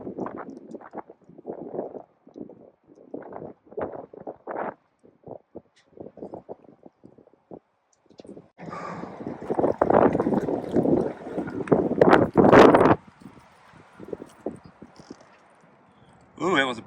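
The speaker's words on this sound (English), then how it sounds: "The wind is picking up." A strong storm wind, forecast at up to 80 miles per hour, gusts and roars against the microphone at a campsite with a Jack Wolfskin Yellowstone 2 tent. Talking comes first, then loud broadband gusts take over for several seconds before easing.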